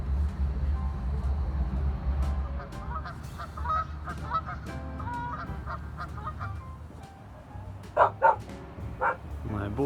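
A pet dog yaps aboard a sailboat, sharp barks bursting out in a quick cluster and then singly, loud and close over low engine and water rumble with some background voices.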